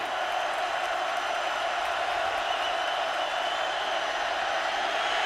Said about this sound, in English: Crowd howling